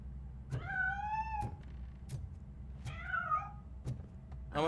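A cat meows in the RoboCop Rogue City video game, two drawn-out, wavering cries with sharp knocks between them over a low ambient hum.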